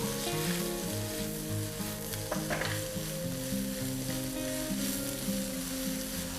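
Vegetables with ginger and garlic stir-frying in a pan for hot and sour chicken soup, a loud continuous close sizzle with the scrape of a spoon mixing through, no voices.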